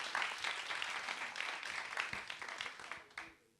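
Moderate applause from a small audience at a cultural quiz night, steady for about three seconds and then tapering off.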